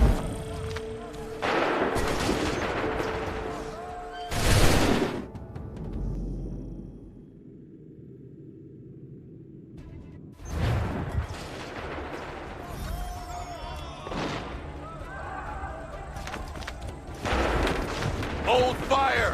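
Cannon and musket volleys in Assassin's Creed III battle, loud booming blasts and crackling gunfire in bursts separated by a quieter lull, with shouted commands between them.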